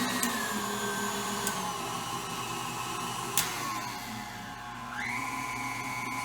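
An electric hand mixer whirs steadily on a low speed, blending egg yolk, oil and orange zest for an orange cake, with a brief rise in pitch near the end and no talking.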